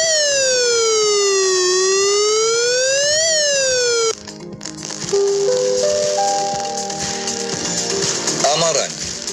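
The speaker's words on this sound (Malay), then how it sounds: "Pertama, bunyi siren amaran." A flood warning siren wails in slow rising and falling sweeps for about four seconds, then gives way to a series of steadier stepped tones with a voice faintly underneath.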